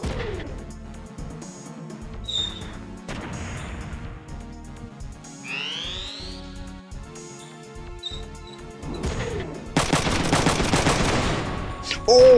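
Mech-battle gunfire in the video game Front Mission 3, with a dense burst of rapid shots late on over a busy mix of game effects and music.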